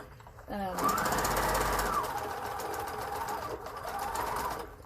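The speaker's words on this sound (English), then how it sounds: "I thought I'd show you me sewing around one of the corners" Sewing machine stitching around the corner of a cushion slip cover, a steady close whirring run starting after half a second and continuing to the end, loud and unbroken with slight speed changes.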